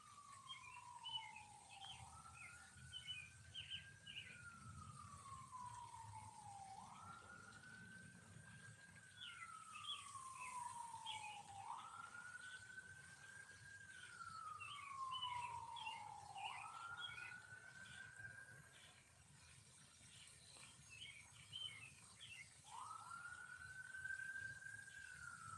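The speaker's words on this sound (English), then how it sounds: "Yeah, you can tell we in the city. There's them sirens." Police sirens wail in the city, heard from a park while trout fishing: a distant siren sweeps up and down in about five slow cycles, with birds chirping faintly over it.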